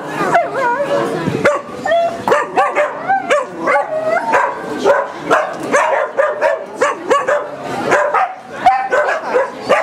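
A dog yips, barks and whimpers in repeated short bursts during an outdoor dog training exercise in which a pretend thief is scared off, with people talking nearby and the sounds fairly close and loud.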